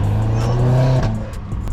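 Electric car accelerating, a rising whine and road hum heard from inside the cabin, brief and fairly loud, with people talking over it.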